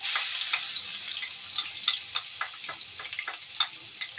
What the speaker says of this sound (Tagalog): ngayon po, guys, magigisa ako ng bawang